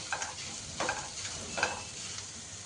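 Peanuts stirred in a cooking pan over a gas flame, three distinct scraping strokes over a steady low sizzle, close and alone without voices.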